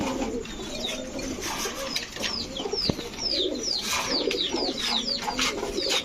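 A yellow Danish pigeon coos in low rolling notes while many higher bird chirps and tweets fill the background, with one sharp knock partway through.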